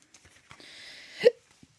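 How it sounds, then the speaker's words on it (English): A single sharp hiccup sounds near the microphone after a faint breathy hiss, alone and with no talk. "Hiccup."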